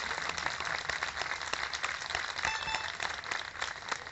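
An audience at a live rock tribute concert applauds, a steady wash of many hands clapping at a distance, fairly faint and unbroken throughout.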